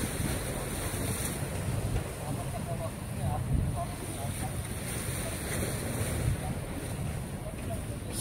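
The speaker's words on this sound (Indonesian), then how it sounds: "pukulan ombak, bunyi air memukul, kita memukul pantai ni, memukul batu-batu yang dah tampal di pantai Jeddah" Steady wash of Red Sea waves breaking on the rocky shore at Jeddah, buffeted by wind noise on the microphone, with a voice talking over it.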